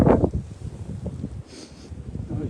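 Wind from a blizzard gusts steadily across an outdoor microphone in snow and ice, a continuous low rushing roar with brief rustles and a soft swell near the middle.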